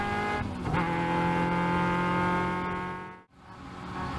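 A Caterham race car roars down the main straight of a circuit, its engine note droning loud and steady from onboard before a brief dip at a gear change, then climbing again.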